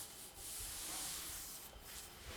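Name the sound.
hands rubbing tea leaves in a hot wok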